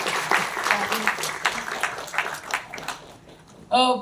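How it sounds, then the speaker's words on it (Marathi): An audience applauds at a trailer launch for the Marathi film 'Aga Aga Sunbai! Kay Mhantay Sasubai?'. The dense clapping is loud and steady for about three seconds, then fades, and a voice briefly cuts in at the end. "त्या सगळ्यांसाठी एकदा जोरदार टाळ्या आपण वाजवूया."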